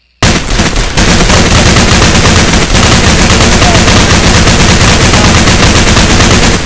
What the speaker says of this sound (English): And then I think we just shoot at it.